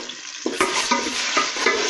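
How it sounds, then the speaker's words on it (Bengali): Ginger and garlic frying in hot oil for chicken curry, a brisk sizzle broken by several sharp scraping stirs of a spoon against the pan, close and loud. "তো এখানে আমি আদা রসুন দিচ্ছি। দেওয়ার পরে আসছি লাড়াচাড়া নিয়ে যাও"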